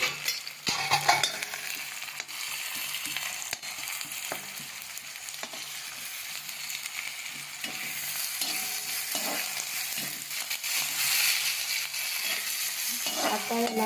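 Cumin, onion, curry leaves and green chilli crackle in hot oil for a Kolhapuri-style soya chunk and potato curry, a steady broadband sizzle with occasional stirring clicks, close and continuous throughout.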